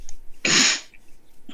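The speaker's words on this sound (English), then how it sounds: "trying to clear my throat" A single harsh throat clear, short and close, from a man during a recorded interview, standing out alone against quiet room background.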